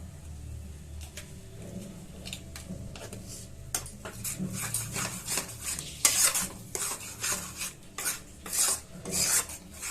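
A spoon scrapes and stirs potato curry in a pot, starting quietly and building into rhythmic, rasping strokes against the metal, with a faint sizzle underneath and no voices.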